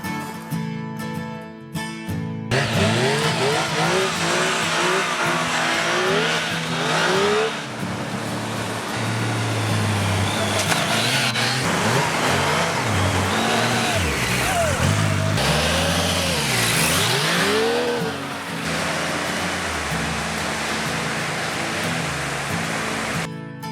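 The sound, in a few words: motorcycle revving and skidding on beach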